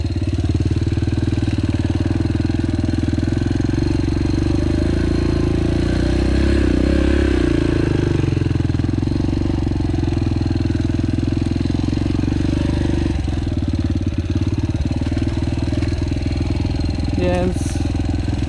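A Yamaha TTR 125L motorcycle engine idles steadily and close with a low, even exhaust rumble, holding near constant for the length of the clip with a slight swell in the middle.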